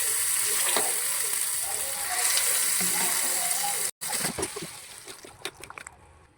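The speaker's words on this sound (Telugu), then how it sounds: "ఇప్పుడు తాలింపు వేసుకోవాలి." Hot tempering with chillies and curry leaves sizzles and crackles as it is poured over a homemade pickle, a loud continuous hiss with brief splattering pops toward the end.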